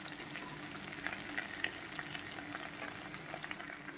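Potato, pumpkin and Malabar spinach stems frying in oil in a pan, a soft continuous sizzle with crackling pops and occasional stirring, quiet and close.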